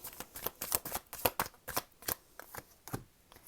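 A deck of tarot cards is riffled and reshuffled by hand, a quick run of crisp papery flutters and snaps repeating in an uneven rhythm, close and fairly quiet with no talking.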